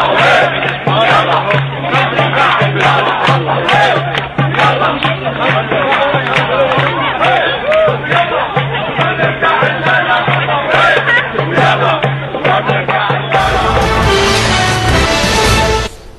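Protesters from the Syrian and Yemeni communities in Britain chant solidarity slogans outside the British government headquarters, a dense, continuous crowd din of many voices with a steady low hum underneath and a louder, brighter burst near the end.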